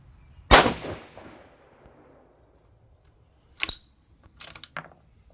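A single loud rifle shot from a Seekins Havak Hit chambered in 6mm GT, a sharp crack with a fading tail, followed a few seconds later by several short metallic mechanical clicks.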